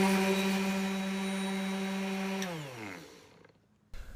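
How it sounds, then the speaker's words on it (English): A Festool ETS 125 random orbit sander runs with a steady close motor whine, then spins down as it switches off, followed by a brief knock at the end. "the Festool sander is a lot smoother. It cuts differently than the other sanders."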